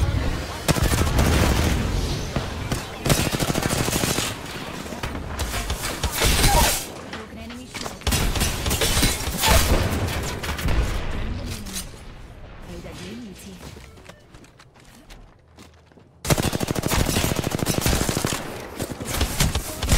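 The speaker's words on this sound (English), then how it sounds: "Opening fire on our prey." Rapid automatic gunfire and bursts of shots in the battle royale game Apex Legends, loud and close, coming in dense volleys with brief lulls and a near-silent gap before a final heavy barrage.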